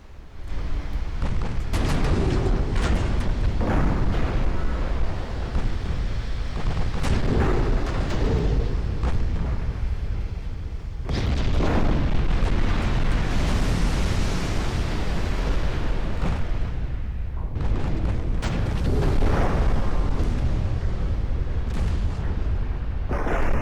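Torpedo hits and shell explosions on warships in a naval battle game rumble in heavy, overlapping booms, swelling in several loud waves over a continuous low roar of combat.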